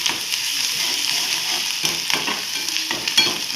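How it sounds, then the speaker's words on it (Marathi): Boiled chickpeas sautéing in a hot pan for a chickpea masala, with continuous sizzling and frying hiss broken by periodic stirring scrapes, close up and without speech. "त्याला पण आपण चांगलं परतून घेऊ।"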